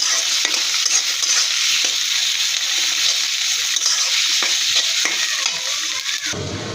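Loud, continuous sizzling as prawn heads and greens are stir-fried, with scraping and stirring noises over the crackle and no voices.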